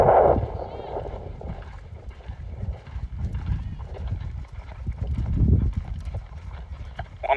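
A horse loping on a riding course, its hooves thudding in a steady three-beat rhythm under moderate wind and background noise, with a rider talking over the footfalls.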